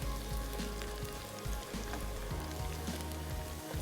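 Chopped onions frying and browning in a pan for a keema-stuffed capsicum dish, a steady close sizzle with crackling pops running throughout, no talking.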